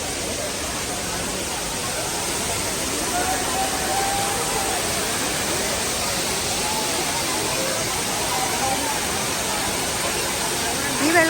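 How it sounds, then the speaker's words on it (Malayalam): Heavy, steady rushing water at the Areekkal waterfalls, a dense continuous roar filling the whole clip with faint crowd voices mixed in beneath it. "നോക്കിക്ക് വെള്ളം കയറുന്നത് നല്ല രസം, ഭയങ്കര വെള്ളം"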